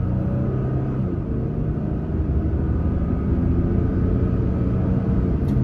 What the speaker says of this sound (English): it lets you hear the truck at higher speed